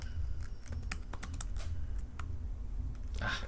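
Rapid keystrokes on a computer keyboard while filling in an online form, a close, steady run of sharp clicks with brief pauses and no talking.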